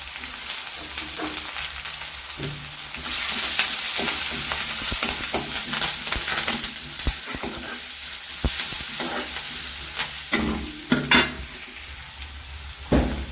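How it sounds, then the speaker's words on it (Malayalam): Sliced onion, crushed ginger, garlic and curry leaves fry in hot oil, giving a steady close sizzle with scattered clicks and scrapes of stirring throughout, and no voices. "സവാള ഇട്ട് കൊടുക്കാം ഇഞ്ചിയും വെളുത്തിനും ചതച്ച് ഇട്ട് കൊടുത്തിട്ടുണ്ട് കറിവേപ്പില ഇട്ട് കൊടുത്തു"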